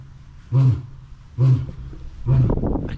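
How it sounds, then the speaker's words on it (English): A lion at a zoo lets out three loud, deep, bassy roars at a steady rhythm, each one a short, heavy grunt close by with quiet gaps between them. "I can't explain how loud that is. It's like bassy, deep."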